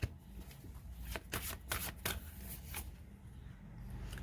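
Tarot cards are shuffled close by in quick riffling bursts, several crisp flutters and snaps followed by softer handling, quiet and with no talking.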